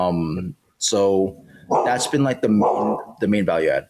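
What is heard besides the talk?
dog barking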